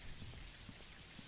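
Steady rain falling on surfaces in an Unreal Engine weather system, a soft continuous hiss with scattered heavier drops, quiet and even throughout.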